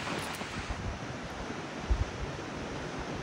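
Strong sea waves wash in a continuous, fairly faint surf roar with a couple of soft low thumps, heard alone without talk.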